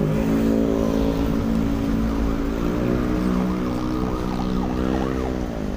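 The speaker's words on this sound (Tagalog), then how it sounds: "Ayun na, ambulansya." An ambulance siren wails, sweeping up and down over a steady engine drone, loud and close, with no voices.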